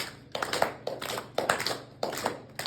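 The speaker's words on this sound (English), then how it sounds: "Left one on top, clap." Four crisp hand claps, left hand on top, in a steady, even rhythm, heard close and with nothing else in a quiet room during an exercise class.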